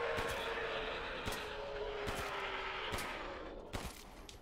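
Gunshots ring out in the video game Resident Evil Village, a handful of sharp, separate cracks spaced about a second apart over a faint steady hum, moderately quiet overall.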